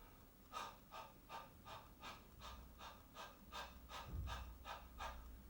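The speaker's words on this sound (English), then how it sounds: "without any voice, I just want you to bounce on your diaphragm." Short voiceless breath pulses pushed from the diaphragm during a vocal warm-up, about a dozen even, rhythmic huffs of air, close and fairly soft, with no voice.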